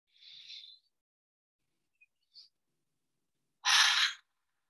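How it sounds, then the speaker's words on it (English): Breath of fire breathing exercise, with a faint breathy puff early on and then one loud, close, forceful burst of air near the end, each breath separated by silence; no talking. "That breath of fire."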